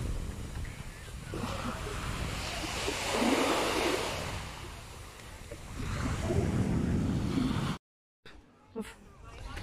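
Ocean surf rolls onto a beach at Orange Beach, steady and loud with broad washes of breaking waves and heavy wind buffeting the microphone, before a sudden cut near the end.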